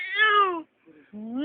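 A cat gives two drawn-out, falling meows close by, separated by a short pause with a faint murmur between them.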